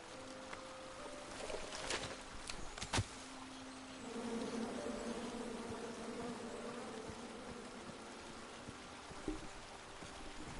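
Angry bees swarm from a chopped-down tree in the King's Quest video game, a steady droning buzz that holds for several seconds alongside a few sharp clicks and a low hum.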